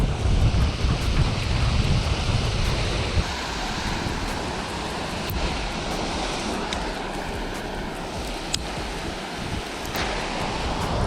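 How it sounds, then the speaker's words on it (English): A small waterfall rushes steadily close by at a bass fishing spot, a constant broadband roar of falling water with some wind buffeting and no talk. "we got this little waterfall right here"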